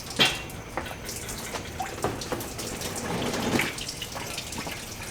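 Water drains and splashes steadily out of a tilted car engine being lifted at the front during a home rebuild, a continuous close trickle with small drips and gurgles and no talking.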